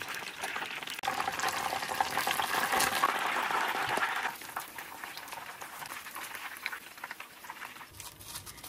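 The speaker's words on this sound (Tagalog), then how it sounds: "Tignan nyo, ang ganda ng pagkakaprito," Breaded cheese chicken katsu fries in hot oil, giving a loud bubbling sizzle that surges for a few seconds and then settles into a quieter, steady crackle, with no voices.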